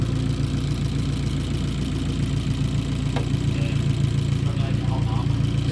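A freshly rebuilt replacement engine in an Abarth 500 idles steadily with a low, even rumble that holds throughout, close by, with a faint murmur of voices in the background.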